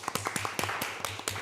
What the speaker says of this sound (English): please give a big applause for all speakers and all of you